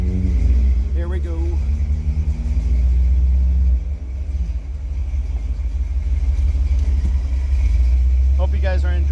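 Early Ford Bronco driving on the road in cold weather, a deep continuous engine rumble and road noise heard from inside, with people talking over it.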